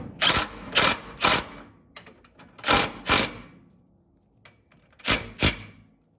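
A torque wrench on the wheel spindle nut of a 1962 Pontiac Grand Prix during a disc brake conversion, giving sharp ratcheting clicks in paired bursts separated by pauses, close and loud with no talk.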